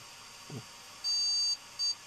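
A desktop computer fitted with a GeForce 8800GT graphics card beeps as it boots with no picture on the monitor: one long, high, clean beep and then a short one, over a quiet background hum.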